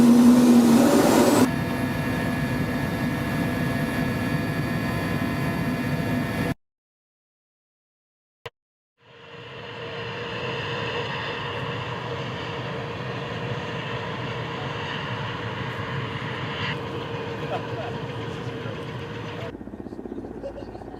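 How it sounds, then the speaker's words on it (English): A steady, loud Russian Mi-8 helicopter engine drone runs continuously, cuts out abruptly to silence, then spools back up to a sustained roar. "This is the Russian Mi-8 helicopter."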